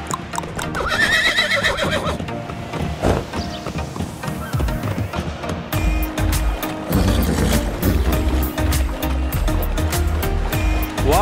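A horse in the video game GTA 5 whinnies loudly several times while its hooves clop rhythmically, crossing a bridge amid game sound effects.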